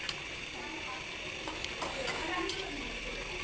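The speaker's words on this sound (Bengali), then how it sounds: "ঢাকনা খুলে আবার একটু নেড়ে চেড়ে দিচ্ছি।" A dried fish curry with jackfruit seeds is stirred in a pan, giving a faint low sizzle with soft scraping strokes and a few light utensil taps, quiet and close.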